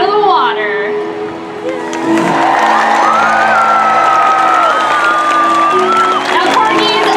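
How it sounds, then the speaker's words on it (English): A SeaWorld San Diego audience cheers loudly for Corky, the 57-year-old orca, a dense roar of whoops, shouts and applause swelling after a brief lull and holding strong, with a voice and music heard briefly early on. "she needs a loud cheer from everyone as soon as she's out of the water"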